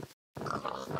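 Pigs in the video game Minecraft, a short burst of game oinks and snorts after a brief silent gap, clear and close.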